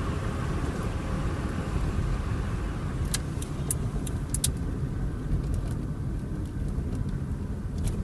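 A Subaru EA82 turbo car slows toward an intersection, heard from inside as a low, steady road and engine rumble that eases under deceleration, with a few faint clicks and no talk.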